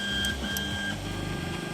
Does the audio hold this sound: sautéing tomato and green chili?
no